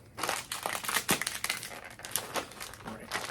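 A sealed packet of pepper crackers is pulled and torn open, with loud close crinkling and crackling plastic in continuous bursts throughout, no voices.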